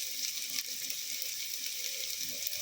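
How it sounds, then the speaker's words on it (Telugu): Mint leaves sizzle steadily in hot oil in a pan while bagara rice is being made, a close, even frying hiss without talk. "ఇలా వేగుతూ ఉంది కదా."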